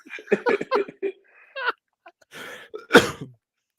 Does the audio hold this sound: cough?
yes